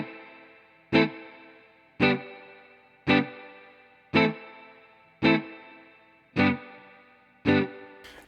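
An electric guitar through a Universal Audio Dream '65 spring reverb pedal strikes seven evenly spaced chords, each ringing out with a splashy, lingering spring reverb tail that decays before the next hit.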